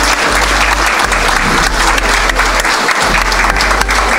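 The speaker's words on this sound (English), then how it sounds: "Can we have a big round of applause to all these wonderful women?" Loud, sustained applause from an audience at an International Women's Day event, dense clapping close by with a low hum beneath it.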